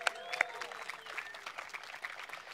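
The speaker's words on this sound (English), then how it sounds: "Give her a round of applause." Quiet, scattered applause from an audience during a speech, honoring a top-scoring student; a few sharp claps at the start give way to a light, fairly distant patter of clapping.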